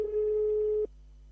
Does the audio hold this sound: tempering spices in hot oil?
no